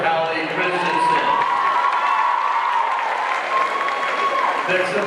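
A high school gym crowd at a boys' basketball game roars and cheers continuously, with loud sustained applause and shouting filling the whole stretch, and a voice rising faintly through the din.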